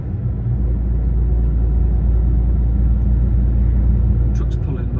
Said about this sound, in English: Truck's pulling well anyway